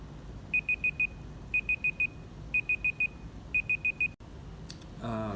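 A Google online timer alarm beeps in four groups of four quick, high electronic tones over steady background hiss, followed by a voice starting to speak.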